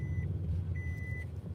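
Steady vehicle reversing beeps sound in the background over a low rumbling hum, one short beep followed by a longer tone, distant and fairly faint.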